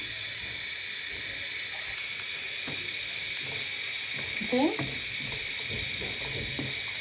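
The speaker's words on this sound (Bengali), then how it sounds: "লালটে হয়ে গেছে পেঁয়াজ রসুন, এবার জিরা দিয়ে দেবো, পাঁচফোড়ন এই বলে জিরা দিয়ে দিলাম" Cumin seeds hit hot oil with browned onion and garlic while dal is being cooked, producing a continuous hiss and sizzle with small pops and occasional clinks from stirring.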